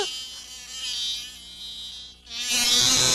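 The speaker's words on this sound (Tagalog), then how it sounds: "Nandyan na naman yung bubuyog!" A bee buzzes close by in a steady, high whine that swells and fades, dips briefly, then returns louder and harsher.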